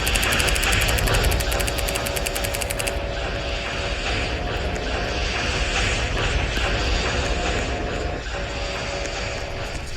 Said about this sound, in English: We have the engine.